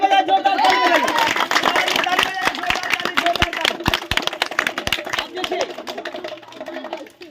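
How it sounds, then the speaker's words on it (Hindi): An audience claps at a roadside street magic show, sharp scattered claps building into a burst of applause and then thinning out, with a performer and onlookers talking over it. "एक बार ताली बजाए, जोरदार ताली बजाइए"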